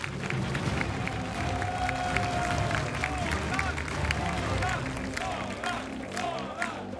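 A live esports crowd at IEM Katowice in Poland cheers and claps for Zerg player Solar in a StarCraft II match, a sustained broad roar of cheering and applause filling the hall, with commentators talking over it.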